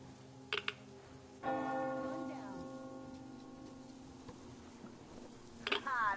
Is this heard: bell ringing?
yes